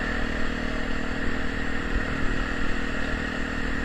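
A Honda Tornado motorcycle fitted with a Protork exhaust adapted from an XR200, its engine running with a steady, throaty drone and rattly clatter, close and loud with no talking.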